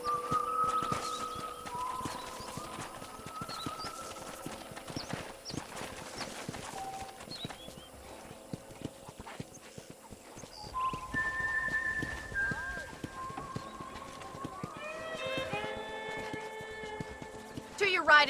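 Hooves clip-clop in Red Dead Redemption as a horse moves along a ranch, with whistle-like tones, occasional voices and a neigh near the end.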